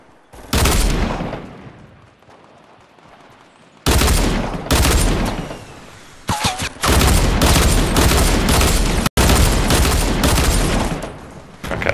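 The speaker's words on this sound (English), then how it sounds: "Oh, I'm getting shot at by a sniper rifle." Heavy gunfire in a Fortnite match comes in several loud, close sustained bursts separated by short quiet gaps, with sharp cracks and booming blasts rather than single isolated sniper shots.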